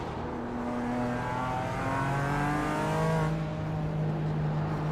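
A BMW race car in the iRacing sim downshifts, its engine a steady, loud, close drone with shifting tones and no voices.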